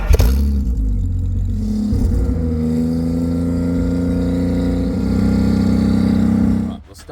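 A Holden VX Commodore engine is held at a steady 4,000 RPM, giving a loud, sustained droning hum close by that drops away abruptly near the end.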